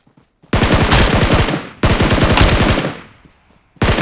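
Automatic weapon fire from the PUBG Mobile battle royale game: two long, loud bursts of rapid shots, each lasting over a second, then the start of a third burst, with no talking.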